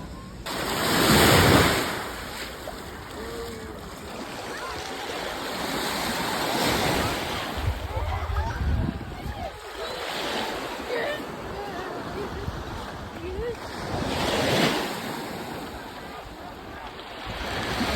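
Ocean waves roll in and break on the shore in repeated surges, with steady wind buffeting the microphone throughout.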